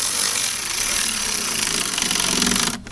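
A power tool whirs steadily and loudly for nearly three seconds while tightening licence plate bolts on a Jeep, then cuts off abruptly near the end.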